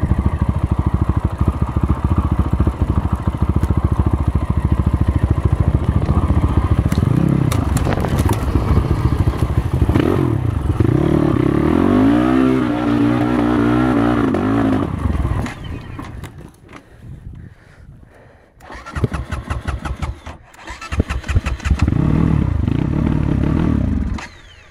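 A BSE M8 motorcycle with a large engine runs close by, its rough idle clattering before it revs up and rises in pitch, then drops off and returns to a loud, steady run.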